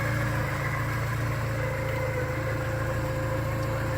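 A 1986 Porsche 944 Turbo engine runs at a steady idle, a constant low rumbling hum with an even pulse and no talk.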